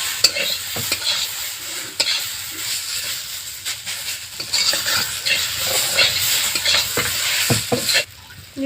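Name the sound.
frying in a pan with turmeric and salt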